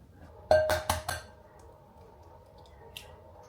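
Eggs being mixed in a large bowl for leche flan: a quick cluster of three or four sharp clinks and knocks close up, then quiet with one faint tap near the end.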